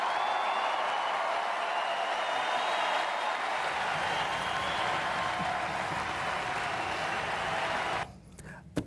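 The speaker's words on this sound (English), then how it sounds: "it is so nice to hear you cheering for what I just said." A large convention audience applauds and cheers loudly in a dense, sustained roar of clapping and shouts that fills the hall, then drops away abruptly near the end, leaving quieter room noise.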